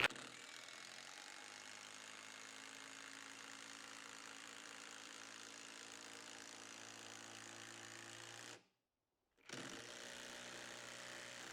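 A Kincrome cordless battery drill on clutch setting 3 drives a screw with a steady, whirring mechanical hum, closely miked, running for about eight seconds before a brief pause and then resuming.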